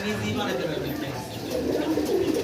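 Satin pigeons coo in low, repeated throaty murmurs, heard close and steady while someone talks over them.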